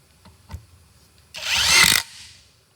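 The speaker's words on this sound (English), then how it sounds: "I'm going to drill it into this wood over here." A DoWox impact driver rated at 170 ft-lbs, fitted with a 10mm socket, drives into wood without a pre-drilled hole: a single loud burst of about two-thirds of a second after a couple of faint knocks, then quiet.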